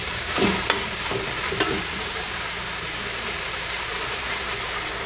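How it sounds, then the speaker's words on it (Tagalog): Garlic, onion and tomato sautéing in a pan give a steady, close sizzle with a few scraping stirs near the start, continuing evenly with no talk. "Hanggang yung kamatis ay medyo magisa-gisa na at medyo malambot na bago ilagay ang itlog ng hantik."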